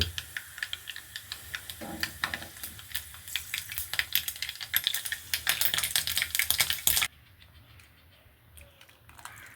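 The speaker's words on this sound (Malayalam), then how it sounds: "എണ്ണ ചൂടാകുമ്പോൾ കടുക് പൊട്ടും" Rapid, crackling pops of mustard seeds spluttering in hot oil, growing busier and louder before abruptly dropping to a quieter sizzle.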